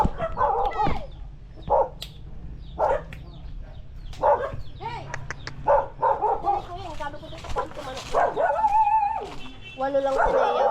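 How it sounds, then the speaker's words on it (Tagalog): A dog barks repeatedly in short, loud bursts with some higher yips and whimpers at a rural home in the Philippines, while people talk and chickens cluck nearby. "aso."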